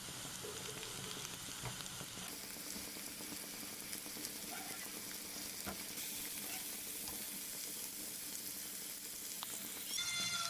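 Pepper fries in a pan with a continuous bright sizzle and crackle, steady and close, with occasional stirring knocks and no talk.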